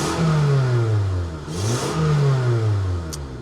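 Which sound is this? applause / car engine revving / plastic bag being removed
car engine revving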